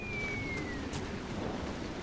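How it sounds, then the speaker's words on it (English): Steady rain falls in the video game Dragon Age: Inquisition as a dense, even hiss of patter, with a faint thin whistling tone gliding downward near the start. "I think we have to make the rain go away first"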